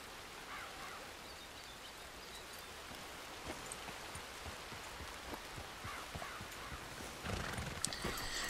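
Horse hooves clip-clopping in the video game Red Dead Redemption 2, faint and steady over a rain-like hiss, with a brief snort or whinny-like burst near the end.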